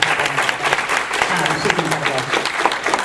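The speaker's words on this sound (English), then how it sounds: "So if we could give her a quick round of applause." Quick burst of applause from a community town hall crowd in Sault Sainte Marie, dense steady clapping throughout with a voice speaking briefly over it.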